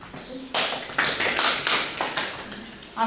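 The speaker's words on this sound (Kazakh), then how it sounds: "Келесі топқа белгі беріңіздер шапалақпен." A classroom group claps together as a signal, a quick burst of several sharp, close claps in a loose rhythm lasting a couple of seconds.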